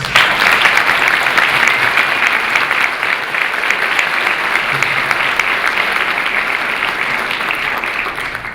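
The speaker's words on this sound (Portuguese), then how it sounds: "eu pediria a elas uma salva de palmas." Sustained applause from an academic colloquium audience, dense and steady for the whole stretch, loud and close with no voices over it.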